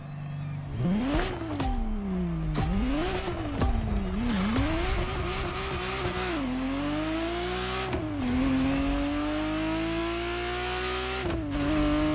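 Ferrari Testarossa engine in the racing game The Crew Motorfest, loud and close, revving up and down through repeated gear shifts with rising pitch, brief tire squeals mixed in.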